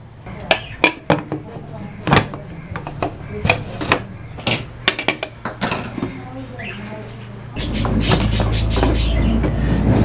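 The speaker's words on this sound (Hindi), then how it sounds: "इसको प्रेशर कुकर को बंद कर देता हूँ ढकना" Metal pressure cooker lid clanks and scrapes into place on a kitchen stovetop while cooking bottle gourd curry, a string of sharp close clinks followed by a steady hiss or rumble, with someone talking over it.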